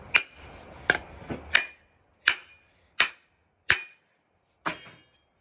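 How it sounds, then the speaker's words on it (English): Sharp metallic hammer blows while making an axe, about eight strikes, the first few quick and close together, then slower evenly spaced hits with silence between. "Just a few hammer blows."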